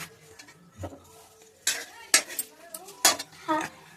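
Prawn and potato curry being stirred in a pan, with the potatoes boiled and added in their broth: a few distinct scraping and clinking strokes of a utensil against the pan, separated by quiet pauses, close and fairly loud.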